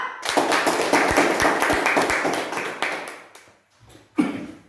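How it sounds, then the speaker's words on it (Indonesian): Applause from an audience welcoming an executive director to speak at a business sharing event, dense clapping that fades after about three seconds, then a short burst of claps near the end. "Untuk itu kita panggilkan dengan tepuk tangan yang sangat meriah"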